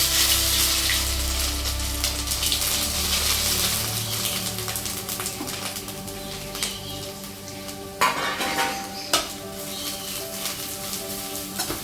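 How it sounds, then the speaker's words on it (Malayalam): Grated wild ginger sautéing in oil until golden brown, a loud close sizzle with frequent scraping and stirring strokes of a spoon against the pan, continuing steadily without speech. "നമുക്ക് എണ്ണയിൽ അത്യാവശ്യം ഗോൾഡൻ ബ്രൗൺ നിറാണ വരെ ഒന്ന് വഴറ്റിയെടുക്കാം"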